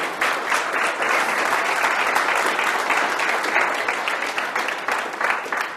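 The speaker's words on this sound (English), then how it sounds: "Give him a round of applause, everybody." Audience at a TEDx talk in Portsmouth gives a steady, full round of applause, a continuous dense patter of many hands that stays even and fairly loud throughout.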